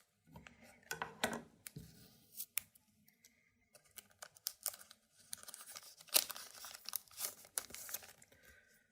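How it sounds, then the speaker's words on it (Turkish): A Pokemon Stellar Crown booster pack is torn open, its foil wrapper crinkling and ripping in close, bursty handling noises with short pauses between tears. "Öncelikle bu Stellar Crown paketini açalım diye düşünüyorum."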